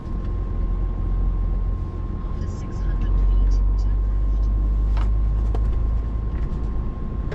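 A car driving on a flat tyre, a loud steady road and engine rumble inside the cabin that swells partway through, with a faint whine running underneath.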